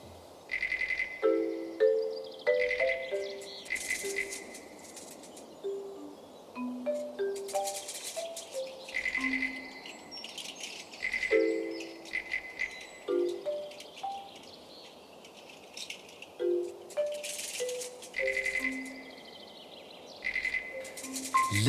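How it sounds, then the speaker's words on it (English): Forest ambience with birds chirping and calling in repeated bright phrases throughout, over a steady soft bed of insect hum, with no talking. "Listen to the sounds of the forest all around you."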